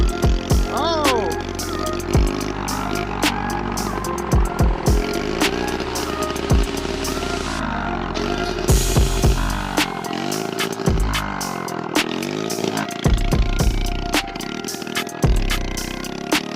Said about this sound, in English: Damn, this got no pickup with the exhaust off.